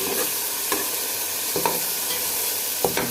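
Half a kilo of chicken fries in a pan for biryani, a constant bright sizzle close by, broken every second or so by sharp stirring clacks of a utensil against the pan.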